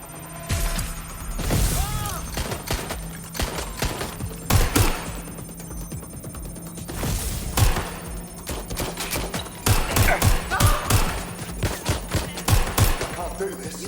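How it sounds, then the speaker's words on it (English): Rapid bursts of gunfire in the Watch Dogs Legion video game, a firefight with repeated sharp shots and thuds scattered across the clip, loud and close among game sound effects. "Suspect shooting!"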